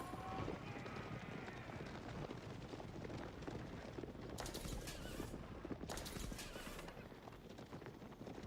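Massed horse archers' hooves in a strategy video game make a dense, continuous clatter of galloping hoofbeats, faint and distant, with no pause throughout.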